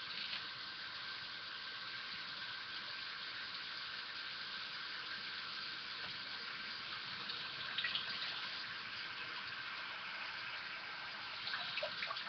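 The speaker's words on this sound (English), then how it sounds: "we're going to fill up the sink and see what happens" A sink filling from the tap, a steady close rush of running water with a slight hiss that holds evenly, with a few faint knocks near the end.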